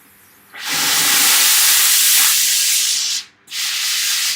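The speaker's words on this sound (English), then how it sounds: "So I'm going to give it a blast of steam. You'll probably hear it." Loud hissing steam blast from a Laura Star iron, a long sustained burst of about three seconds, a brief pause, then a second burst starting, heard close and alone.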